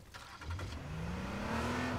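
In the PS4 game H1Z1, a car engine revs up with a steadily rising pitch over about two seconds, loud and continuous with no speech.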